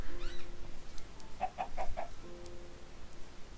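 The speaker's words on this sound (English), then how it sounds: "I don't think we're ever going to get this chicken back." A chicken in the Minecraft video game gives a short run of four quick, evenly spaced clucks in the middle, with faint game tones before and after.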